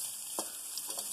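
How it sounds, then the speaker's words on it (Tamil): Garlic sautés in a pan with a soft, steady sizzle, broken by a few brief scrapes of a spoon stirring it. "பூண்டையும் போட்டு வதக்கி"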